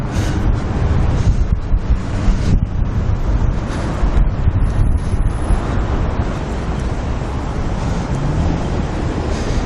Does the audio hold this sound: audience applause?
no